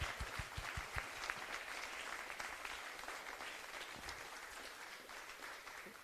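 Applause for the female division podium at the NCL Finals and Australian Ninja Open, a steady wash of clapping from a crowd that carries on evenly for several seconds without voices.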